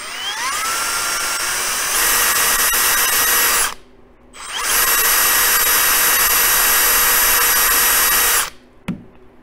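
Close, loud, high-pitched whirring from a motorized tool spinning a swab to clean and polish a pistol barrel's feed ramp, in two sustained bursts separated by a short pause.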